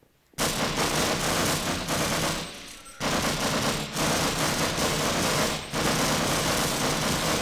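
Automatic gunfire from a weapon with heavy recoil in the video game Half-Life blasts in long, loud, sustained bursts, with brief breaks between them.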